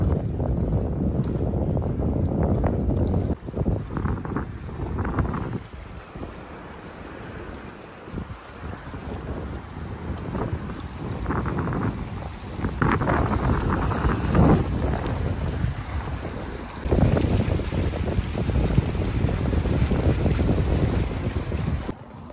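A sailboat under way in open water as a light wind picks up, with steady broadband wind rush buffeting the microphone and water noise throughout, swelling louder in the final seconds; no talking.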